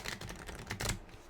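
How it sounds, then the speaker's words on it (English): Quick, soft clattering of tarot cards being shuffled, a brief burst of rapid riffling taps close by. "Let me get one more shuffle in."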